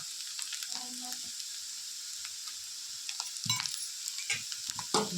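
Taro root curry fried in a pan, a soft steady sizzle running throughout with brief stirring scrapes and a few louder clinks toward the end.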